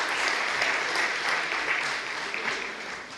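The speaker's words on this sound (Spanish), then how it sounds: "un aplauso también para ustedes" An audience at a formal welcoming ceremony for visiting authorities applauds in a steady, moderately faint wash of clapping that continues evenly throughout.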